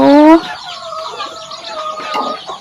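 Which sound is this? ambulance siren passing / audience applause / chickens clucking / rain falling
chickens clucking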